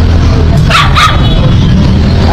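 Giant chow chow dogs barking, two quick close barks in a row over a loud steady background rumble.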